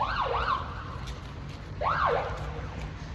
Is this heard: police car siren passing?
yes